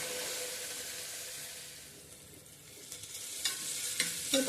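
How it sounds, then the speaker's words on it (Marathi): Steady sizzling hiss of chopped tomatoes sautéing in a pan until soft, for masoor pulao, with a few soft scraping stirs toward the end; no talking. "टोमॅटो चांगला मऊ होईपर्यंत आपण हे परतणार आहोत."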